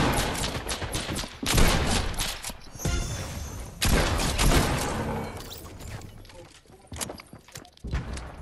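A squad match in an online shooter is full of bursts of gunfire, quick volleys and rapid automatic fire with short gaps and footsteps between, while players talk over the action.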